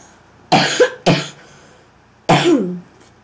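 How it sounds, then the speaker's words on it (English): Three separate coughs from one person nearby, loud and harsh, with the first two close together and the third after a short pause, with no talking. "I was coughing a lot."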